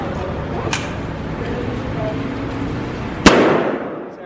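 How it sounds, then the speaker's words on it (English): Assault rifle fire at a gun range in Thailand, two sharp loud reports, one early and a heavier one near the end with a ringing tail, over steady background noise and some voices. "Shooting an assault rifle."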